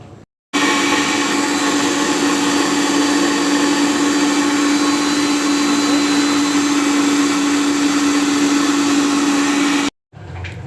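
A blender grinds egg sauce as soybean oil is added, its motor whining in a loud continuous drone with a steady hum for about nine seconds, cutting in abruptly after a brief lead-in and stopping sharply near the end.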